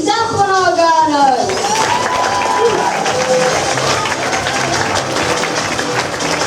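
Theatre audience applauding and cheering through a school-style evening stage show, a dense loud wash of clapping and crowd voices with shouts and whoops rising over it.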